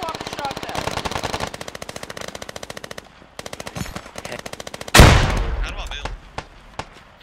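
Rapid automatic gunfire rattles in long bursts in the war video game Squad, followed by a loud nearby explosion that decays into scattered shots, with players talking over the action.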